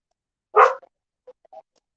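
A single sharp bark from a puppy reacting to something outside, loud and close, followed by a few faint short yips in an otherwise quiet setting.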